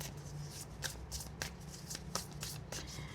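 A deck of tarot cards is shuffled by hand close up, giving quiet, rapid rustling slaps in a loose rhythm with no speech.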